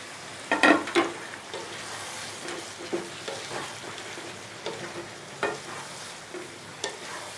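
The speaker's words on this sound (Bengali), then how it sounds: "আলুটা দিয়েও খানিকক্ষণ কষাতে হবে" Fried potatoes being stir-fried in a mutton curry: a quiet background sizzle broken by repeated scraping, clattering strokes of the spoon in the pan, loudest near the start.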